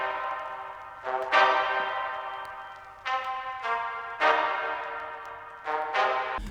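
Synth trumpet from FL Studio shaped with EQ and reverb plays a series of bright brassy notes whose tails ring into each other, giving a washed, roomy sustain, soft and steady with no speech.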